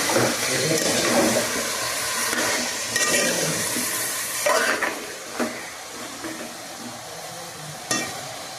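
Chunks of elephant foot yam and brinjal with tomatoes are stirred in oil in a pan, giving soft frying sizzle with scattered scrapes and clinks from the spoon. A voice speaks faintly now and then.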